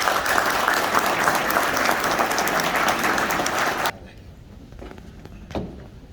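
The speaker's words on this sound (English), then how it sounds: "Let's give a round of applause." A crowd at a Kenton County Republican Party gathering claps loudly and steadily for about four seconds, then the applause cuts off abruptly, leaving quiet room noise and a single knock.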